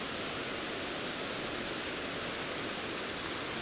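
Wide river swollen and muddy yellow after a night of very heavy rain, giving a steady, full broadband rush of flowing water, close and continuous with no breaks.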